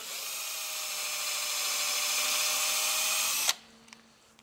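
An electric drill fitted with a masonry bit whines loudly and continuously at close range for about three and a half seconds, then cuts off, leaving a few light clicks.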